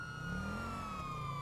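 A police car siren in GTA V wails steadily as an in-game vehicle drives, a sustained tone that rises and falls slightly, loud and continuous with engine rumble underneath and no talking.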